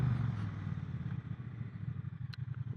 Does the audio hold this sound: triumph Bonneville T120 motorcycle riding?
yes